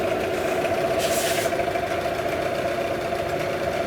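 A repaired Yamaha 9.9D outboard motor idles steadily on a break-in fuel mix while warming up, a close, even mid-pitched drone with a brief hiss partway through.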